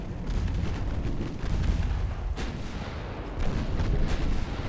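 Naval guns in the warship game Ultimate Admiral boom in heavy, rumbling salvos. Several loud blasts overlap in a dense, continuous barrage with no voices over it.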